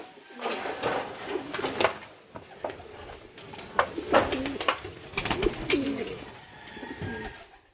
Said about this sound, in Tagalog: Puro pangalera pala yung mga kalapatid yung nasa bubong kanina.